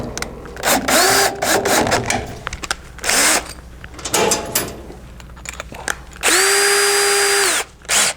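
A power drill whirs in several short bursts driving self-threading screws while fitting an IEC contactor and overloads, then one longer sustained run, loud and close with clatter between.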